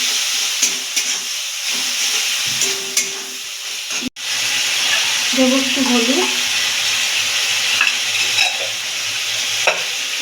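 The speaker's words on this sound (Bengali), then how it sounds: "এটাকে মিডিয়াম আগে রেখে ভালো করে কষিয়ে নেবো" Spice paste of onion, cumin, coriander and chili with a splash of water, stir-fried over a medium flame, heard as a steady close sizzle with repeated scraping stirs and one brief break in the sound.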